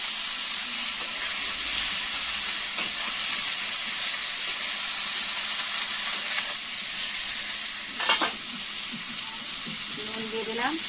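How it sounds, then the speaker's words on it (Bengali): Taro leaves dropped into a hot pan with black cumin and turmeric, giving a loud, steady sizzling hiss with a few sharp clatters of a utensil near the end. "কচু শাকগুলো দিয়ে দিচ্ছি।"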